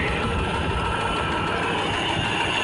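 A 1989 Jeep Cherokee engine runs with its alternator on a newly fitted high-mount bracket and a slightly loose belt, giving a steady, loud mechanical drone and whir that holds evenly throughout, with no speech.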